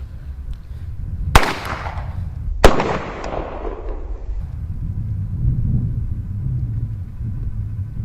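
Two sharp gunshots ring out at a shooting range a little over a second apart, each loud and near with a long rumbling echo that trails off under a low steady background.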